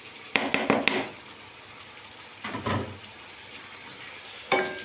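Meat frying in garlic and ginger paste in a pot: a soft steady sizzle with a few sharp metallic stirring clinks near the start and a scraping stir around the middle.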